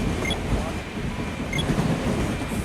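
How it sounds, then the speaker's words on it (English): Train noise in a video game: a steady rumbling roll with a few faint metallic clicks, heard throughout at moderate loudness. "need a train to make some train noise."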